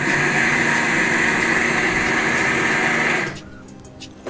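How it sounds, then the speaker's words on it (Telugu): A kitchen mixer grinder whirs loud and steady as it blends sugar with roasted chana dal and cashews, then cuts off abruptly near the end, leaving quiet room sound. "కొంచెం మిక్సీ."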